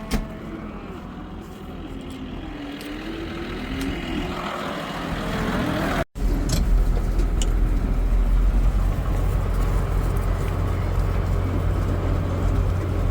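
A JCB machine drives across a dairy farm carrying a bale to the next paddock. Its engine makes a steady broadband rumble that swells and grows louder partway through, with no voices.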